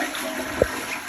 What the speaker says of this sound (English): You almost always want to flush it immediately.